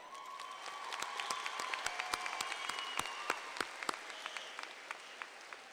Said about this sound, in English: let's give a round of applause for our Del Valle High School choir members